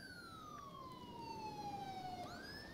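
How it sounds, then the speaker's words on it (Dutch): An ambulance siren in a GTA 5 ambulance mod wails in a smooth, falling sweep before jumping back up to start the next cycle, heard alone at a modest level. "De sirenes die ik gebruik zijn niet 1-op-1 met de mug"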